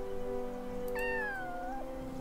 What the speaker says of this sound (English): Oh, I got another cat.